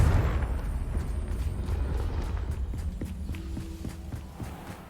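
Confringo fire spell from Hogwarts Legacy set off inside an old closed mine, a booming blast with a rumbling low roar that decays, followed by rapid footfall-like thuds and scattered impacts.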